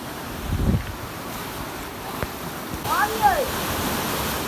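Water running through a small canal in a Punjabi village, a steady wash of flow with wind noise against the microphone and a brief voice at the start.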